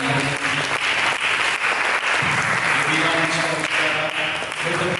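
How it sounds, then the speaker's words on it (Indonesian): A church congregation claps together after a sermon, a dense, continuous burst of applause filling the room, with voices faintly mixed in beneath the clapping. "Mari kita sambut firman Tuhan dengan tepuk tangan."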